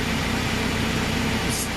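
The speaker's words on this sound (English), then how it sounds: "the engine revs straight back up to a set RPM" Close and steady, an Antonio Carraro TR7600 tractor engine holds a constant loud droning hum at raised revs for a couple of seconds.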